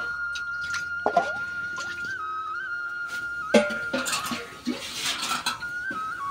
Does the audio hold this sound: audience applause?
no